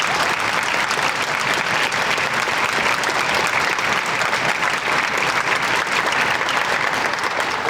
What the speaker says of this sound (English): Will you join me in giving them a round of applause and thanking them for being here?